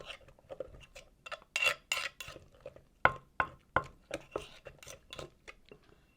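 A utensil stirs and scrapes through Hmong spicy tomato sauce ingredients in a bowl, making a series of quick, irregular clinks and scrapes close by.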